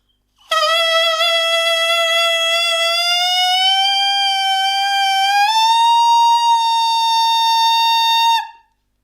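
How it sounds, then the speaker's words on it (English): A tenor saxophone mouthpiece played alone gives one sustained, loud, buzzy tone whose pitch slides upward gradually as the lips tighten, then jumps higher and holds before stopping abruptly. "keep blowing air into the mouthpiece and gradually tighten your lips by smiling more and more"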